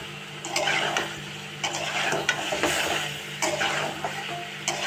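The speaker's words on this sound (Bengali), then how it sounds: "আর সবগুলো একসঙ্গে খুব ভালো করে একটু কষিয়ে নেব" Chicken being stir-fried with turmeric and dried chili powder in a pan, a soft sizzle under bursts of spatula scraping and clatter against metal, close and rhythmic, with no talking.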